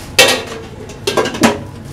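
A cookie jar and its lid being handled, with three loud clattering knocks of ceramic or glass against a hard surface at close range and a steady low background hum between them.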